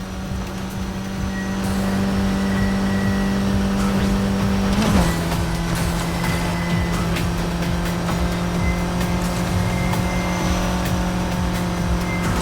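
Cars race through a city in the Need for Speed Heat video game, a steady loud engine drone with a sustained tonal whine, a brief louder swell or pass midway, and continuous road noise throughout, no talk.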